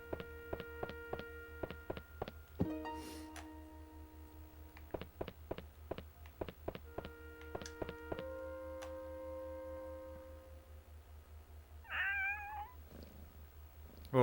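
A cat in the video game Shadow of Destiny on PS2 gives a wavering meow near the end, over a quiet game scene of sharp rhythmic ticking and tapping tones with a low hum underneath.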